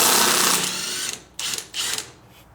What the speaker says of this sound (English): Go ahead and grab an impact and just go to town.